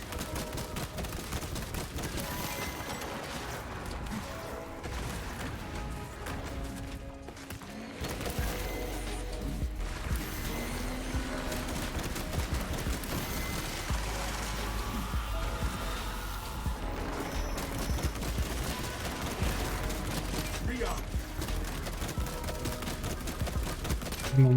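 Video game gunfire in a fight against a neurothrope, a dense, continuous barrage of shots layered over game music and effects, staying loud and busy throughout with a brief dip partway through.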